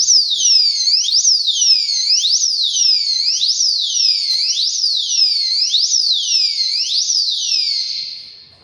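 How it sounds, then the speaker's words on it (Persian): A motorcycle anti-theft alarm blares loudly and close, cycling through rapid rising and falling electronic siren sweeps for several seconds before cutting off. "اینم از دزگیرش. چه دزگیر خرکیه. صداش مخو میترکونه."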